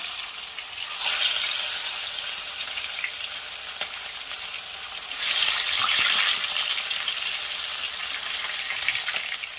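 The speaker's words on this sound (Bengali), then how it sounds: "এবার আমি এটাকে গ্যাসের ফ্লেমটাকে কমিয়ে দিয়ে আস্তে আস্তে মাছগুলো আমি ভেজে নেব।" Steady sizzling of aar fish pieces frying in hot oil over a low flame, with the crackle swelling louder twice before settling back into a constant hiss.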